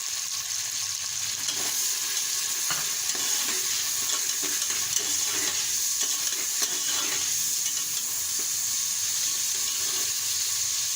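Tomatoes, green chilies and ginger fry with onions in a pan, making a steady, even sizzle with soft occasional stirring scrapes and no speech.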